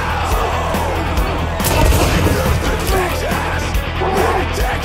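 Loud shotgun fire bursts out in a chaotic exchange of shots in Hunt: Showdown, booming and crashing close by over a constant rumble of background noise.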